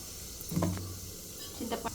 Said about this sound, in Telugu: ముందు ఆనియన్ వేస్తున్నాను ఆనియన్